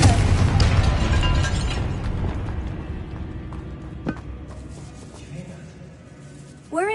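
A Confringo fire spell goes off in the game Hogwarts Legacy inside a tomb, a loud booming burst at the start that fades into a long decaying rumble, with a few small pops afterward.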